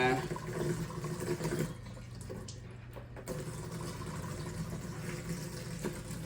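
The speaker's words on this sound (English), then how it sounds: "And now, put a little water with that." Water is poured into a cooking pot holding meatballs and chicken feet, a steady splashing, trickling stream running for several seconds with a brief lull partway through, fairly quiet and with no talk.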